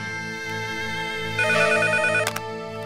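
A phone ringtone plays a repeating electronic melody, steady and fairly loud, with a brief brighter flourish midway and no talking.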